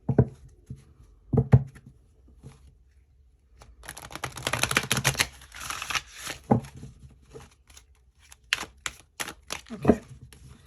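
Tarot cards are shuffled close by in a dense, papery riffle of rapid flutters, framed by scattered taps and clicks of cards being handled.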